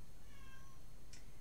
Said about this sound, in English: Go away, kitty.